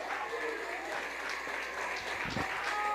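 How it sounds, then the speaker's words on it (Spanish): Congregation applause at a church revival service: dense, sustained clapping from many people in a reverberant hall, with voices carrying over it. "Un aplauso a Jesús"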